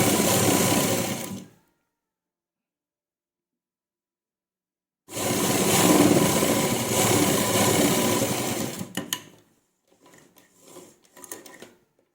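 Sewing machine running in two bursts while stitching a temporary tacking seam on a folded fabric strip for a kurta neck patti with piping, a steady fast whirr about 1.5 s, then a pause, then a longer run followed by brief stop-start pulses.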